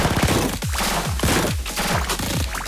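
Support gunfire in the mobile game Blue Archive: a dense, rapid volley of overlapping shots and impacts, loud and close, lasting a few seconds without voices.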